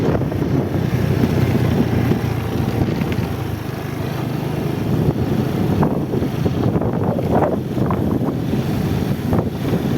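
Strong wind rushing over the microphone while riding a motorcycle along village roads in the evening, a loud continuous roar with gusty buffeting throughout.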